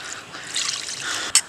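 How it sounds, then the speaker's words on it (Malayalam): Water is poured onto chicken pieces in a pot before boiling, a short close trickle and splash that ends in a brief sharp clink. "ഇത് കുറച്ച് വെള്ളം ഒഴിച്ച് കൊടുക്കണം"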